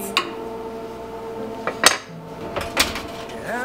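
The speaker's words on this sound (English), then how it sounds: "I'm just going to stir up the oats and almonds so everything gets all nice and toasted" A utensil stirs oats and almonds in a pan for toasting granola bars, giving a few sharp metallic scrapes and clinks spread irregularly over steady kitchen hum, close and moderately loud, with no talk.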